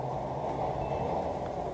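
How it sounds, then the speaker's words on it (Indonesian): A subway train runs underground with a steady, loud rumble and a constant low drone, continuous and unbroken with no voices over it. "Dalam kereta bawah tanah."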